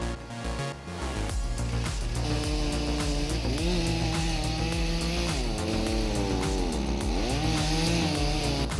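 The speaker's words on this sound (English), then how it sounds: "With just a small chainsaw in hand, the worker is gradually cutting down a giant tree." A small chainsaw felling a giant tree snarls loudly and continuously at close range, its engine pitch rising and dipping as it bites into the wood.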